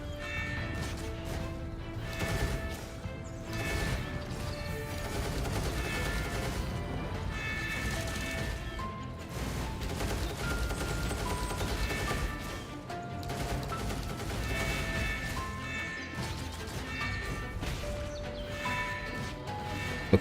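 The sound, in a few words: gunfire barrage in video game Punishing: Gray Raven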